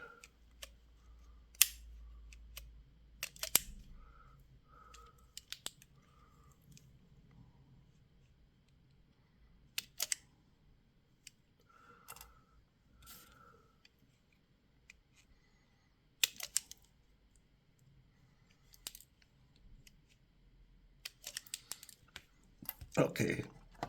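Scattered sharp snips and clicks from trimming component leads on a radio kit build board, close and intermittent over quiet room tone, with brief speech between cuts.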